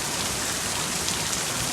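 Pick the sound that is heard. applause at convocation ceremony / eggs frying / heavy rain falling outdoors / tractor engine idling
heavy rain falling outdoors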